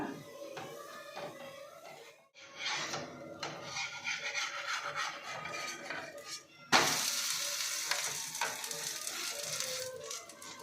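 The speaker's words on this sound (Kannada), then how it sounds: "ಸಿಮ್ಮಲ್ಲಿ ಇಟ್ಕೊಂಡ್ರೇ ರಾಗಿ ರೊಟ್ಟಿ ಚೆನ್ನಾಗಿ ಬೇಯುತ್ತೆ" Ragi roti, a finger millet flatbread, sizzling steadily in a pan over a low flame, with scraping and rubbing sounds of it being turned; the sizzle grows louder partway through and continues unbroken with no talk.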